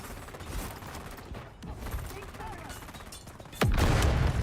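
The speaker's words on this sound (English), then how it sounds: "Can you hear a lot of gunfire?" Gunfire in the Dune: Awakening video game, a scattered run of distant shots and clatter followed by a sudden loud burst near the end.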